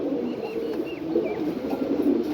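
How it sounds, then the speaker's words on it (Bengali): Steady low cooing of racer and khaki pigeons runs throughout, a continuous warbling murmur of several birds nearby with a few faint higher chirps. "সুন্দর এক জোড়া কবুতর আর উপরে আছে হচ্ছে খাকি কবুতর"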